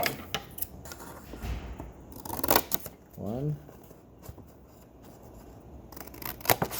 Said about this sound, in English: I'm going to cut these two creases that I folded